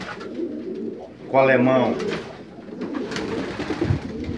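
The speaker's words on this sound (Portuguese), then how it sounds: "Olha o pombo aqui, topo da gama, ó." Breeding male racing pigeons in a loft give a burst of rolling, throaty cooing, close and distinct, set among a man's speech before and after.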